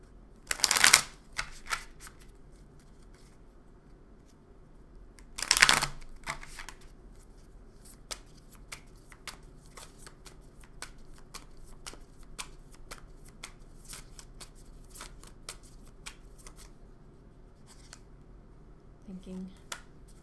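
Tarot cards shuffled for a reading, with two loud riffling bursts followed by a long run of soft, scattered card taps and flicks, close and fairly quiet.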